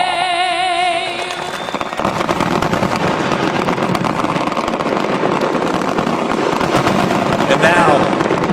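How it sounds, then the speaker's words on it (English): Fireworks crackle and pop in a dense, continuous stream at the start of a professional women's triathlon race in Miami, with a voice heard at the beginning over the steady bursts. "You've got the fireworks in the background."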